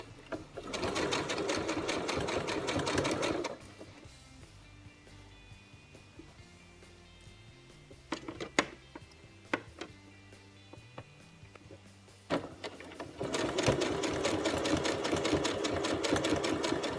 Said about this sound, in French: Nous allons commencer à coudre où il y avait la couture.